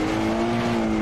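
Engine of a low-powered, naturally aspirated rally car in the video game Richard Burns Rally, held at high revs as a steady, loud drone with no talk.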